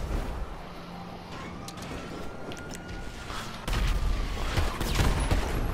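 Gunfire in a GTA 5 Online shootout, rapid bursts of shots crackling over a busy street background, growing louder and denser in the second half.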